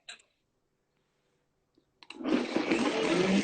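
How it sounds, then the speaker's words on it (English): A Breville blender starts up after a couple of faint clicks and near silence, then runs loud and steady with a dense whirring roar close by. "I'm gonna run the blender one more time"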